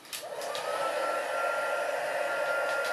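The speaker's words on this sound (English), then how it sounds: "Get my heat gun." A craft heat gun switches on and blows a steady, close whooshing hiss with a constant tone, running unbroken for a few seconds in a quiet room.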